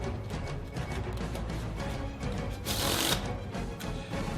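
A deck of playing cards riffled and shuffled quickly in a card trick, with a dense run of crisp, close flutters and one brighter burst near the end, no talking.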